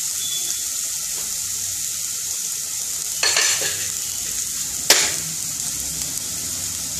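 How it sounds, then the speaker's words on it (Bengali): Vegetables fry in a pan for a vegetable oats dish, giving a constant low sizzle broken by two louder scraping bursts of stirring. "অল্পখানিটা ভেজে নিয়ে আমি অন্য সবজিগুলো দিতে আরম্ভ করব"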